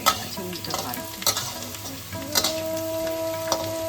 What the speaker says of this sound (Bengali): এদিকে আলুগুলো আমার বেশ ভালো করেই ভাজা হয়ে গেছে। উল্টো পাল্টে